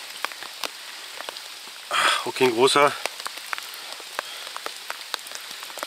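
Rain falls steadily on an outdoor fishing spot, a dense, continuous patter with close drops hitting a surface, briefly interrupted by someone speaking.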